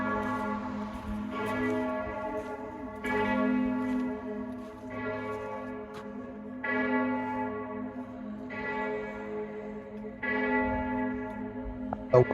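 Church bells ring in an Alpine mountain town, a series of spaced, resonant strikes with long decaying hum, heard at a moderate distance with outdoor echo and no talk.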